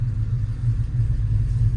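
A 450hp cammed single cab truck engine drones with a loud, steady low rumble from inside the cab, continuous with slight lumpy pulsing and no talk over it.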